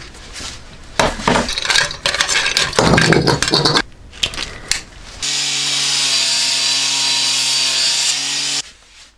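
Rust being scrubbed and sanded off an old, badly corroded shovel blade that is being forged into a knife, with bursts of abrasive rubbing and scraping, then a steady, loud power-tool whine that holds for several seconds before cutting off.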